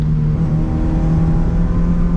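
A Mazda MX5 NA sports car at speed on the Nürburgring Nordschleife, its engine holding a constant droning note with tyre and wind roar, heard from inside the cabin with no talking.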